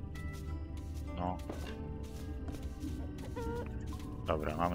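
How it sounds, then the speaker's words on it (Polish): Black chickens clucking in the MrPrepper Animal Farm DLC farm game, several short bird calls rising over a steady background of game music and ambience. "Dobra, mamy czarne kury."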